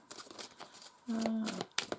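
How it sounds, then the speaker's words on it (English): Oracle cards are shuffled by hand in soft, quick riffles and rustles, faint and close, with a brief hum partway through. "So let us just shuffle a little bit and we'll see."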